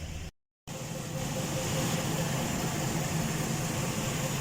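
A car engine runs at a steady idle after starting, a continuous even drone with a brief dropout near the beginning; the car has an engine overheating problem.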